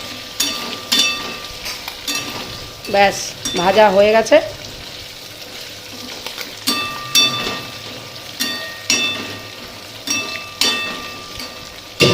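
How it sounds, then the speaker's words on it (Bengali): A spice mixture fries in a pan with a steady close sizzle, broken by regular scraping stirs and a brief voiced sound partway through. "এদিকে মশলাটা ভাজা করছি"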